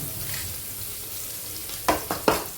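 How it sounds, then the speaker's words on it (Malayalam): Steady hiss of fish frying in hot oil, broken near the end by a few sharp scrapes or clatters of a utensil in the pan. "അങ്ങനെ ഓരോന്നായിട്ട് നമുക്ക് വറുത്തെടുക്കാം"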